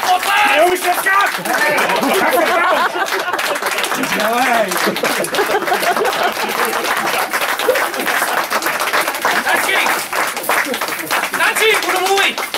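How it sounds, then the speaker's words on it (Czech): A packed room at a farewell event breaks into loud, sustained applause for a general. Dense clapping continues throughout with whoops and lively chatter mixed in. "To je potlesk!"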